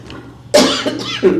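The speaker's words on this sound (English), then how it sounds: "I'm sorry, I'm coughing." A few sharp coughs close to the microphone at a public meeting, one burst followed by two shorter ones, with no talking.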